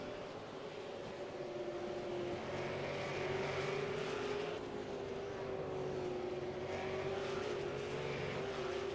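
V8 Supercars lap Mount Panorama in the iRacing sim, a steady loud engine drone holding one note and rising in pitch as the cars run on with no break.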